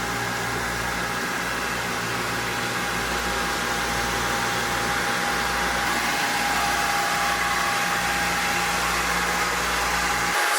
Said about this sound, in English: That background noise is actually the AC chillers running and the chiller pump.